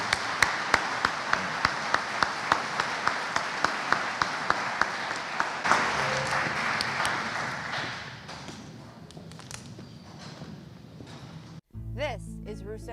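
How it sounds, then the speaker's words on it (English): An audience at a parish sheriff candidates' debate applauds, steady clapping that gradually thins and fades, with a few sharp tapping sounds early on and a brief different sound at the very end. "let's give these candidates a round of applause"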